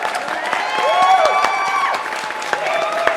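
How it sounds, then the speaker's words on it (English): Golf clap sound effect: polite, scattered applause from a small crowd with a soft murmur and faint tonal background, sustained for about three seconds at moderate loudness. "Does Dewalt get the golf clap?"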